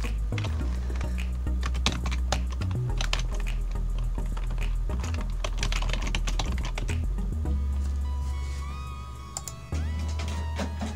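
Typing on a computer keyboard at home while logging into an email account, a busy stream of clicks and keystrokes over a steady low hum, fairly close and continuous throughout.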